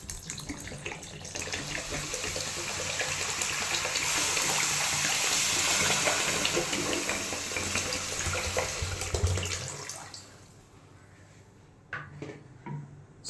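A litre and a half of water poured over 1.6 kg of sugar in a large pot for bread halwa syrup, a long, steady gushing stream that fades out, then brief clinks of utensils.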